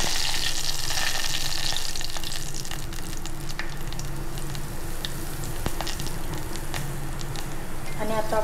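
Garlic, curry leaves and asafoetida sizzling in hot oil in a pan for a coconut milk kadhi, a steady close crackle with occasional sharper pops and stirring, while someone talks.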